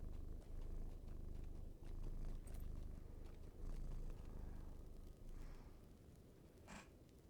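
A cat purrs close and steady in rhythmic, low, rumbling pulses that soften toward the end, with a faint high chirp near the close.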